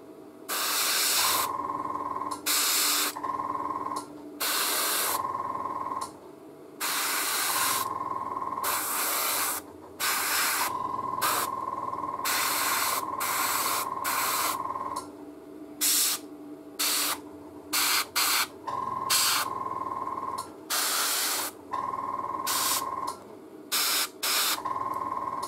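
An airbrush sprays pink paint onto a Predator miniature in repeated hissing bursts of varying length, some long and some short and quick, with a faint tonal whine from the compressor under the spray.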